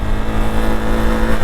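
A KTM Duke 390 motorcycle engine screams at high revs, a loud, close, continuous whining roar held steady through a gear shift, with no voices.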